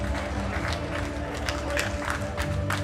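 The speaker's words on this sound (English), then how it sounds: "please give these ladies a round of applause as they follow Heather Layton off the platform" An audience at the 2021 World Classic Powerlifting Championships applauds as women lifters leave the platform, with a sustained patter of clapping and crowd noise and a voice briefly heard in the background.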